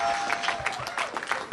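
Crowd of supporters applauding at Ron Paul's post-Iowa caucus speech, a steady wash of clapping with scattered cheers, fairly loud and continuous throughout.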